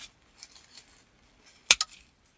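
Scissors snip through a grapevine wreath in two quick close cuts, a sharp double click standing out after a few faint rustles in an otherwise quiet room.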